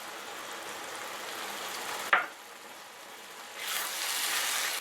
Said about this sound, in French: On va laisser encore mijoter environ 5 minutes.